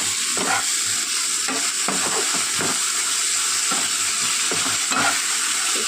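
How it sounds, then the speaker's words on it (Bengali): Ginger-garlic paste fries in a pan of onions and tomatoes for a tilapia curry, a constant bright sizzle with repeated scraping strokes of a spatula close up. "চলুন আদা রসুনটা দিয়ে একটু ভেজে নিই"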